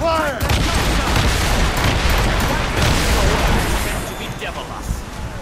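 Cannon fire in Assassin's Creed Rogue, a dense barrage of booms and crackling blasts rolling together, loud and continuous before easing slightly, with shouting voices mixed in.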